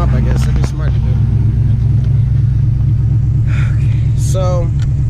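Chevy OBS pickup truck engine idles while warming up outside a shop, producing a loud, steady low rumble throughout with brief faint voices and noises over it.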